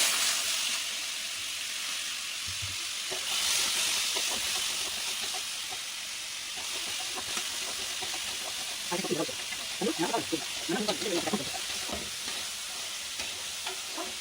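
Fennel seeds frying in two or three spoons of hot oil, a steady sizzle with stirring scrapes and clinks growing busier toward the end, while a voice talks intermittently over it.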